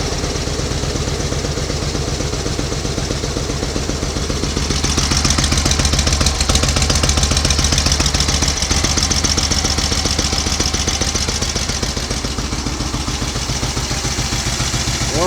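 A 1938 Matchless 990cc Model X motorcycle running after years laid up, its big engine thumping and clattering steadily at idle, close and loud throughout with no talk.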